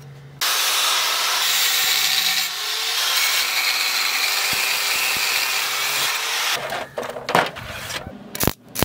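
A wooden handle for a RURIS 731k motocultivator being cut with a saw, a loud steady rasping that runs for about six seconds, then breaks into scattered knocks and scrapes as the cut finishes.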